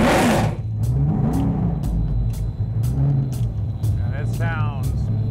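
A Camaro race car engine idles with a deep, rough rumble and throaty revs, loud and close, with faint talking at the end.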